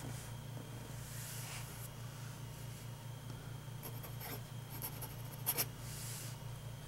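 A 1930 Wahl Eversharp Gold Seal fountain pen scratches softly across paper in faint, continuous strokes, with a couple of slightly louder taps near the end.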